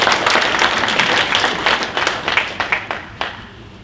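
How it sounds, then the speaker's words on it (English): Applause from the audience at an NRA firearms Q&A panel, a full wash of clapping that thins out into a few scattered, separate claps as it dies away. "Clap it up, guys."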